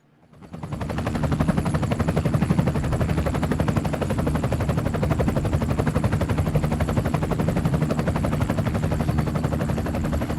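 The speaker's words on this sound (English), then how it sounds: "I love the helicopter sound." Helicopter rotor noise, heard as a dense, steady rapid thumping whir, holds at a constant moderate level throughout, with no talk over it.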